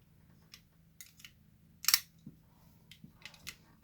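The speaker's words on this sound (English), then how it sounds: "Then I'm going to cut them out with my X-Acto knife." An X-Acto knife cuts out paper templates for faux fur panda ears: sparse light clicks and scratchy cuts, with one louder crisp slice midway, all close and quiet against near silence.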